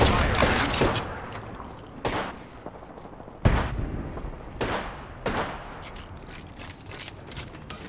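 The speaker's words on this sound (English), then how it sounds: "I am taking fire." Gunfire in the battle royale video game Apex Legends: bursts of rapid shots and sharp cracks at irregular intervals, with a game voice speaking in between.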